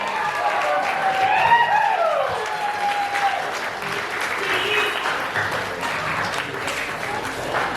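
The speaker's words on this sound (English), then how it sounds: "Everyone just give her a round of applause" Wedding guests at a reception applaud the bride, sustained crowd clapping with scattered cheers and some voices, steady and fairly loud for the whole stretch.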